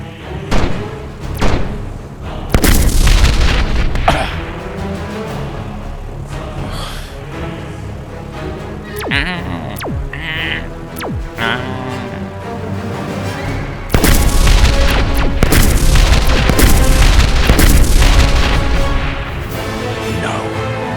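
Sci-fi battle with weapons firing and explosions in an animated brick-built series: heavy thuds and booming blasts pile up in loud bursts over a dense, layered action score, with the strongest volleys near the start and toward the end.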